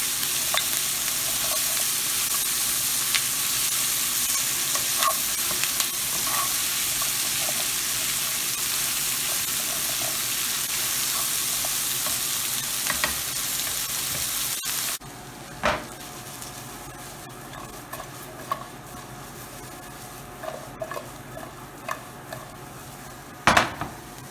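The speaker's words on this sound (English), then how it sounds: "we're going to add all of our veggies that we have chopped earlier. Allow these to saute." Chopped vegetables sauté in melted butter in a pan for steamed fish, a steady close sizzle with occasional stirring and clinks of utensils against the pot, the frying hiss easing partway through.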